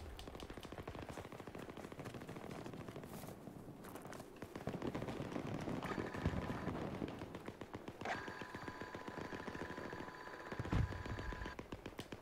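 Rapid bursts of automatic gunfire rattle continuously over a dense mechanical background, with occasional heavier thuds, in the video game Rebel Machine.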